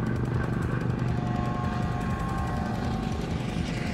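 Helicopter rotors throb steadily overhead in a Battlefield 4 mission set in the Kunlun Mountains, a continuous loud churning drone with a rapid pulsing beat that holds through the whole moment.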